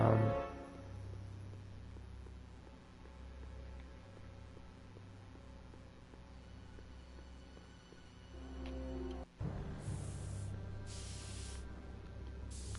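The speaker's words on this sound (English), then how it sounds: "Oh, you spray painting," In the Back to the Future video game, a steady hiss of spray paint runs under a low game music bed. The spray pauses briefly, then resumes with short bursts.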